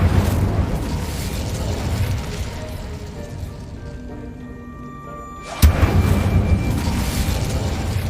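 Incendio fire spell cast in Hogwarts Legacy: a dense rumbling game ambience thins to quiet, then a sudden sharp burst hits and a roaring whoosh of flame swells and holds loud to the end.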